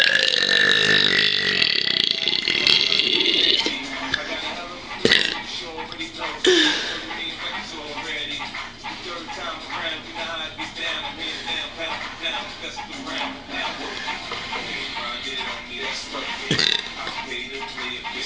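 A long stretch of loud, drawn-out burping, with sustained belches broken by brief pauses, close to the microphone and without other sounds competing.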